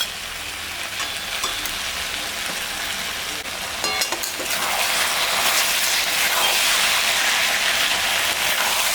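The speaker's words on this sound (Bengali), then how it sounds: "আর এখানে সর্ষে আর জিরা আর শুকনো লঙ্কা বাটা আছে, এটা এখন দিয়ে দেবো।" A paste of ground mustard, cumin and dried chilli frying in a pan for a Bengali stir-fry of Malabar spinach with rohu fish head, giving a steady close-up sizzle that grows louder and busier halfway through as it is stirred.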